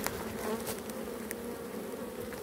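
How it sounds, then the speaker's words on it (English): A dense swarm of bees buzzes steadily around a beehive built beneath an outdoor structure, a continuous close drone with individual insects flitting past, no voices. "lovely beehive, yes, lots and lots of bees going in"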